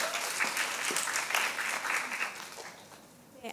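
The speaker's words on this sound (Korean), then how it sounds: "큰 박수로 맞아주세요." An audience at a Korean-language speech contest in Toronto applauds to welcome the next contestant, steady full-room clapping that thins and fades near the end.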